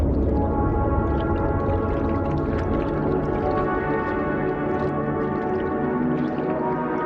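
Bowhead whale calls in Arctic waters, a steady dense wash of low moaning tones and layered underwater sound that runs loud and unbroken throughout.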